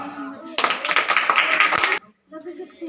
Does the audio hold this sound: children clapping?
yes